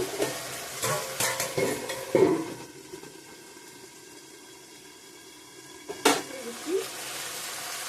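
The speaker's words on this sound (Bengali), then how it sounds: "কুকারে এখন একে দিয়ে রান্না করব" Chicken cooking in a pressure cooker pot, with several scraping stirs and clinks up close early on, a quieter stretch of soft sizzling, then another burst of stirring near the end.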